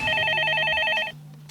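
Telephone bell ringing loudly in a repeated double-burst electronic trill, then cutting off abruptly, on a Korean broadcast about calls coming in from across the country.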